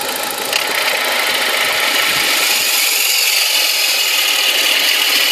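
Engine of a BMW 1 Series five-door manual held at raised revs under throttle, a loud, steady droning roar recorded up close, with a slight shift in pitch partway through and no talking.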